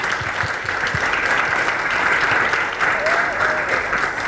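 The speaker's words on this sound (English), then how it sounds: "I'd like to give a big round of applause to our wonderful panelists." Audience at a clean cooking forum panel on West African markets gives sustained, even applause, a steady wash of clapping with faint voices underneath.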